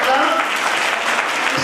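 An audience claps at a poetry recital held for an Arya youth council's foundation day, a loud, dense burst of applause throughout.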